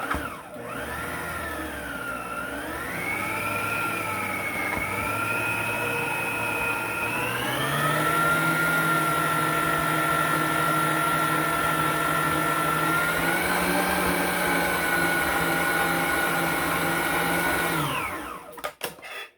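A stand mixer or food processor motor whirs steadily as it churns walnuts into cookie dough for Viennese walnut Christmas cookies, its pitch dipping and rising as the load shifts, loud and continuous before cutting off at the end.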